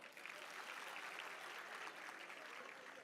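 An audience claps for two children who stepped forward as volunteers, a steady wash of applause lasting a few seconds at moderate, fairly distant level.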